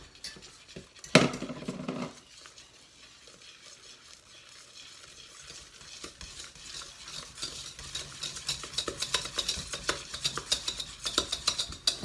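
Flour dropped all at once into boiling liquid in a deep pot for eclair dough, then stirred vigorously: a brief thud and splash, a quiet pause, then steady rhythmic scraping and sizzling clatter building up close.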